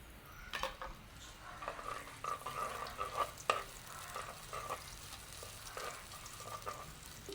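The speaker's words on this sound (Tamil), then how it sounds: "நாங்கள் வந்து பிரியாணியில் கிராம்பு கருவா மற்ற ஏலக்காய் அவ்வளோத்தையும் போட்டுக்கொள்வோம்." Whole spices such as cloves, cinnamon and cardamom sizzle in hot ghee for prawn biryani, giving a steady close fry with scattered crackles and stirring scrapes and no talk.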